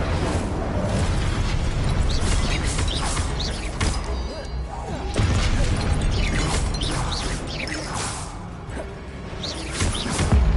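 Hogwarts Legacy combat with the Incendio fire spell cast repeatedly: dense bursts of crackling flame and whooshing blasts overlap with mechanical creaks and impacts, loud and continuous throughout.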